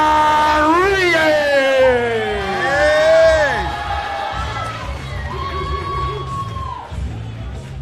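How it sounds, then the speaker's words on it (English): Crowd cheering and whooping as MMA fighter Nick Rodriguez of Iron Forge Gym, Austin, Texas, enters the arena, loud and sustained with rising and falling yells and whistles, steady throughout. "You can see the crowd cheering from outside of the ring."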